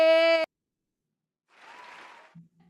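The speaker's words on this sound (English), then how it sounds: "Oh, it's giving us short applause." A short burst of recorded applause, faint and lasting under a second, comes after a loud sustained electronic tone and a pause of silence.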